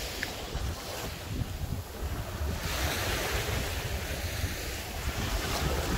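Strong wind on a beach buffets the microphone in a loud, steady roar, with ocean surf rushing underneath and no one speaking.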